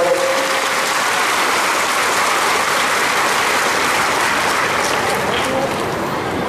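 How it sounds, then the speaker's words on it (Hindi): Loud, steady applause from a large crowd at a ceremony in Datia for an airport foundation-stone and land-worship event, welcoming a guest; it fills the whole stretch continuously, with faint voices mixed in. "आज तो तालियों की गड़गड़ाहट से उनका स्वागत"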